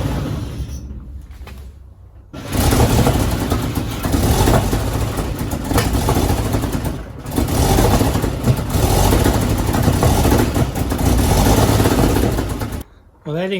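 A 1953 Chevy truck engine cranks and tries to catch, a loud, rough mechanical churning that runs for about ten seconds after a quieter stretch, with a brief pause and restart near the end; voices are faintly present.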